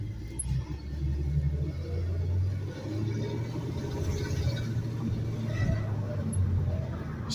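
A 1968 Mercury Cougar XR7 V8 rumbles low and steady as it pulls away slowly in drive, close by and continuous.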